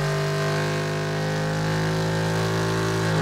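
A race engine on a dyno chassis at the Engine Masters Challenge, headers and open exhaust venting outside, holding a loud, steady droning note with strong harmonics that rises gently toward the end, with no talk over it.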